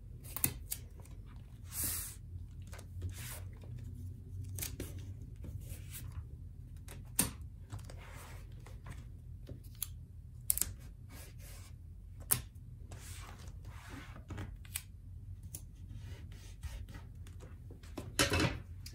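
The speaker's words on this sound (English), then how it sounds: "Then I will tape down all four corners." Tape is pulled and pressed down at the corners of a drawing sheet on a board, heard as scattered sharp rips and taps, fairly close, over a low steady room hum without talking.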